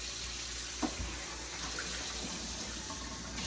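Tap water runs steadily into a cast iron pan in a kitchen sink during cleaning, a constant close hiss with a small clunk partway through.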